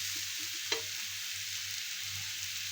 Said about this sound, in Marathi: 2 मिनिटं परतून घ्यायचे.